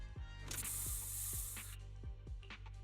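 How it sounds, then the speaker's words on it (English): A special bamboo spray fired in a video game: a long hissing spray burst alongside repeated ratcheting mechanical clicks and low thumps over a steady game background hum. "Here, have a taste of this special bamboo spray."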